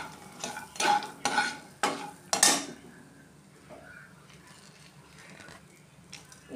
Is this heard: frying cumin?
yes